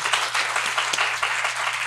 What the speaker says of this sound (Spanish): Un aplauso, bonito, bonito, bonito.